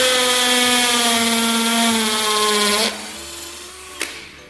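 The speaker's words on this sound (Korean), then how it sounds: "끝까지 뚫어볼게요." A cordless 18V household hammer drill bores loudly and steadily into hard, 40-year-old concrete, its high whine holding for nearly three seconds before cutting off abruptly, followed by a quieter pause and one short sharp knock.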